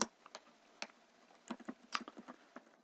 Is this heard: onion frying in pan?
no